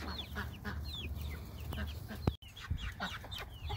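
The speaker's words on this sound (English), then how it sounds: "Chickens are gonna check it out." Chickens in a backyard yard cluck and murmur continuously, several birds close by with scattered higher calls over a low background rumble and one brief loud knock.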